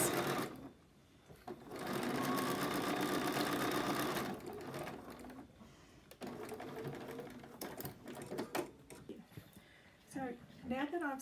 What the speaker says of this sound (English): I'm going to sew across the straight edge on the top of my pad.